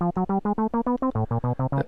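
A Korg Volca NuBass sequence in step jump mode runs as a quick, arpeggiator-like stream of about a dozen short, evenly spaced synth bass notes that step down in pitch partway through.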